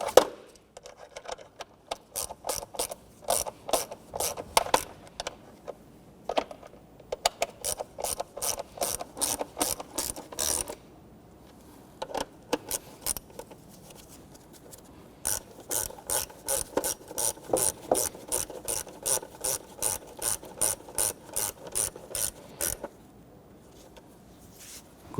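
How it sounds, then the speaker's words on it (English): Ratchet wrench snugging down the water pump bolts on a 1992-1996 Toyota Camry 2.2L four-cylinder, giving rapid rhythmic clicking in repeated runs with short gaps, close and clear. "snug down our upper bolts here"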